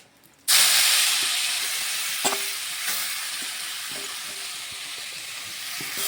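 Carrot pieces drop into hot mustard oil and burst into a loud, sudden sizzle that settles into a steady frying hiss, with a few light clinks of a spatula against the pan.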